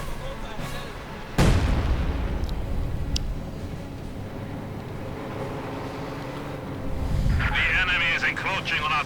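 Heavy boom of a SU-76 self-propelled gun barrage in a Company of Heroes-style strategy game, one big impact followed by rumbling echoes and distant crackling, with a brighter burst near the end; a commentator talks over it.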